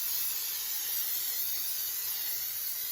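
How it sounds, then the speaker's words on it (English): Non-stick cooking spray hisses in one steady, continuous burst from an aerosol can as it coats a baking pan, close and even for a few seconds. "we're going to spray this guy down with some non-stick cooking spray, inside and outside."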